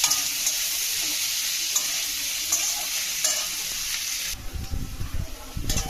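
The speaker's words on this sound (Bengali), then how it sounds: "ভেজে নেব।" Steady loud sizzling of dried red and fresh green chillies frying in a hot pan, with occasional stirring scrapes, then the sizzle drops away near the end.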